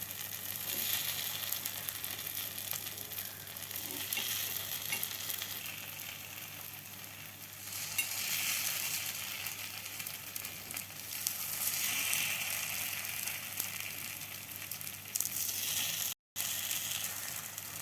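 Egg paniyaram sizzles in a pan over a medium flame, a steady close frying hiss. It swells and eases as the pieces are flipped, with occasional light scraping clicks.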